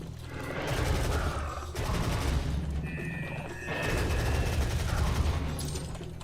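Machine gun fire in the video game Star Wars Battlefront 2 sounds as dense, sustained bursts of automatic shots with a heavy low rumble. The bursts are separated by short breaks.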